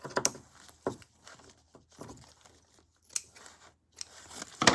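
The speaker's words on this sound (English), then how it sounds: "So I'll just trim a little bit to help myself." Scissors trimming a sewn glassine paper bag decoration, a series of soft, close, irregular snips and crinkly paper rustles separated by short quiet gaps.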